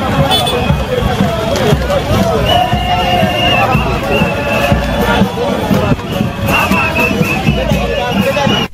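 An enthusiastic crowd at a political rally in Lualaba welcomes Olivier Kiboko and his foundation, a dense, continuous hubbub of many voices with cheers and shouts, loud and steady throughout.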